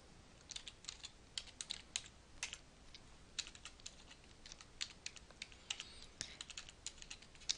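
Keystrokes on a computer keyboard as a username is typed, a steady run of quiet, close clicks with short pauses between bursts.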